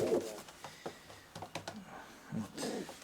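Soft pigeon cooing in short bursts, close by, with faint rustling and a few light taps in the background.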